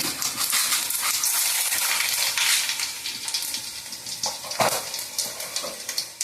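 Garlic, green chillies, cumin and tempering seeds frying in oil for sambar make a loud, close, continuous sizzle with crackling pops that eases slightly toward the end, with no voices.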